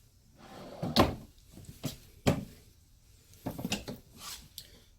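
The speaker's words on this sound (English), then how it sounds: "These drawers fully extend ball bearing drawer guides." Ball-bearing drawer guides in an RV kitchen island on a 2019 Heartland Trail Runner, with several drawers sliding and thudding shut in a quiet room, producing four or five distinct knocks and rolling slides spaced apart.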